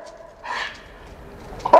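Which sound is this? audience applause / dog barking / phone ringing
dog barking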